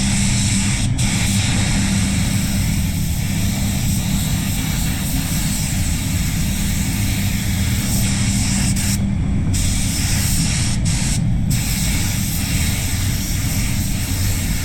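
A spray gun hisses steadily and loudly while coating the door jambs of a Mazda CX-3 during a respray, with a few brief pauses in the spray.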